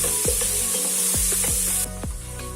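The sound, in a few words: garlic and ginger paste sizzling in pan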